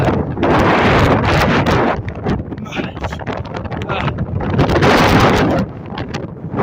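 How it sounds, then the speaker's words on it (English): Strong wind near Denali, Alaska buffeting the microphone in heavy roaring gusts, rising and falling, loud and close. "This is so windy and my hands are cold."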